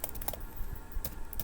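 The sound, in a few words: typing a Linux command on a computer keyboard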